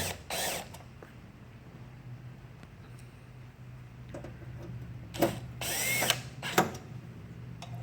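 Screws are snugged down on a battery charger chassis, heard as a few short bursts of a power driver and ratcheting clicks at close range, with quiet pauses between them.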